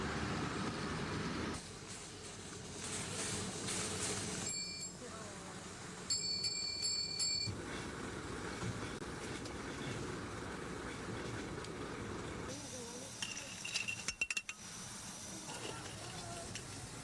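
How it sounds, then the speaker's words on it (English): A steam-hauled 7¼ inch gauge miniature railway train runs along, with rhythmic wheel clatter, hissing steam and a few short whistle blasts. A narrator talks over parts of it. "a 1¼ mile, 7¼ inch gauge, steam-hauled miniature railway"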